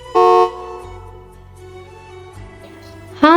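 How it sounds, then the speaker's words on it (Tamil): A motorbike horn sounds two short honks, a loud blast near the start and another at the end, over a low steady hum. "பைக்கோட ஹாரன் சவுண்டு கேட்டதும்"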